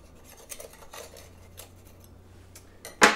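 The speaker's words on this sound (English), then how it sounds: "And then I'm gonna run my knife around the inside" A knife is run around the inside of a bundt pan holding a freshly baked maple doughnut cake, giving soft, scattered metallic scrapes and light ticks, ending in a sharper clatter.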